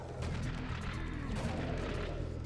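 Grenade launcher firing in the shooter game Serious Sam HD: The Second Encounter, a dense, loud burst of booming, crashing gunfire that fills the whole moment without pause.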